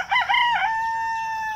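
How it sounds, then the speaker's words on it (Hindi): A free-range desi rooster crows once, close and clear, its call rising and then holding a long drawn-out final note. "मुर्गियाँ कैसे बाहर फिरेंज में घूम रही हैं।"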